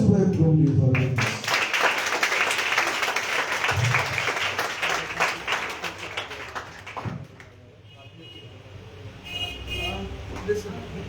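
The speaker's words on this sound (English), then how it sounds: "So clap for the teachers who have groomed you for this." Audience applause for teachers at an English/Hindi elocution event, a broad wash of clapping that fills the first several seconds, then thins and fades with a few scattered claps and background noise.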